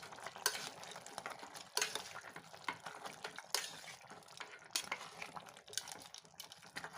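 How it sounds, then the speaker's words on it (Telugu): Chopped tomatoes being stirred into a spicy mutton curry in a pot, faint sizzling with bursts of spoon scraping and stirring at irregular intervals, quiet and close with no speech. "మనం టమాటా వేసేసుకుందాము చుట్టూ కలుపుకుందామండి"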